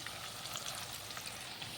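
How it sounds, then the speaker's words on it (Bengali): Onions frying in a pan toward golden, a faint continuous crackling sizzle with scattered small pops, steady throughout with no voices. "পেঁয়াজটা ততক্ষণ ভাজা হোক।"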